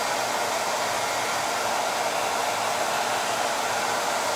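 A hair dryer blows steadily on a board to dry it, a constant close whooshing roar with no pauses and no voices.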